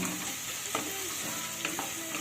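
Chopped onions frying in a pan, a close, even sizzle broken by a few scraping stirs of a spatula, with no voices.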